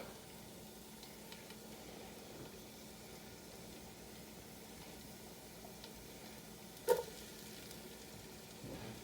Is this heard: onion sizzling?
yes